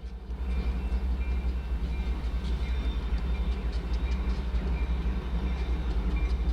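A train rumbles past steadily, low and heavy, with rhythmic clacking of wheels on the rails over a continuous droning roar.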